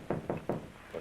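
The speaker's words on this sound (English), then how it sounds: "The door." Four sharp, evenly spaced knocks on a door, close and distinct, from a 1929 murder-mystery film soundtrack.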